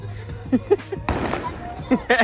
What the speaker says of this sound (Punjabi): ਫਾਈਨਲੀ ਆਪਾਂ ਬੰਬ ਵੀ ਲਏ ਚਲਾ ਇੰਜੋਇਮੈਂਟ ਕਰ ਲਿਆ ਜੀ